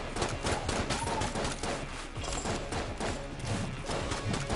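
Dense, continuous gunfire from the video game Enter the Gungeon, rapid overlapping shots and thuds at steady loudness throughout with no break.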